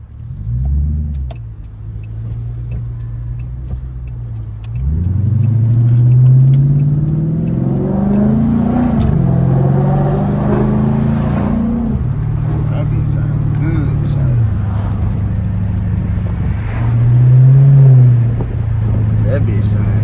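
A Dodge Charger Daytona with its muffler deleted revs loudly in several bursts, each a deep rising roar that drops back to a rough idle, heard up close while people talk around it.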